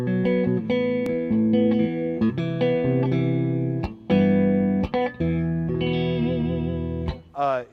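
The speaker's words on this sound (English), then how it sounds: "Very, very warm sounding guitar" Reverend Soul Shaker electric guitar with two Alnico humbuckers played with a warm, clean tone, sustained chords and picked notes ringing on, with a few short gaps and a bent note at the end.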